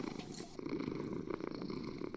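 A house cat purrs softly and close by, a faint continuous rumbling flutter with a brief higher noise at the start.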